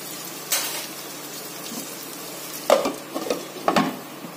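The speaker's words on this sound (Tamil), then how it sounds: "அந்த வெங்காயத்தை இந்த ஆயில்ல போட்டு வதக்கிற வேண்டியதான்" Onions sautéing in oil in a pan for Malabar chicken dum biryani give a low, steady sizzle, with three sharper stirring scrapes toward the end.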